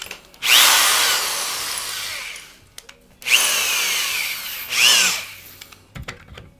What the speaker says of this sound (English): Change drill bits